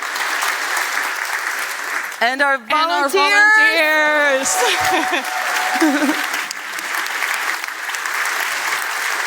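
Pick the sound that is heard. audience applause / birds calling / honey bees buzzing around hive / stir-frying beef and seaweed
audience applause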